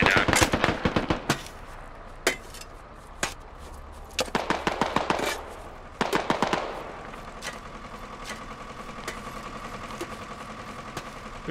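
Gunfire in the video game Squad during a large-scale 50 vs 50 assault. Loud bursts of automatic fire and single shots crack in clusters, separated by quieter gaps, with a faint tonal hum behind them later.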